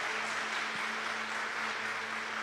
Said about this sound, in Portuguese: Pode aplaudir, pode aplaudir,